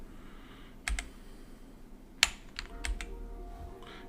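Typing on a MARVO PRO CM373 gaming keyboard produces a handful of sharp, close key clicks in an irregular rhythm, with one louder clack near the middle, against quiet room background and no voices.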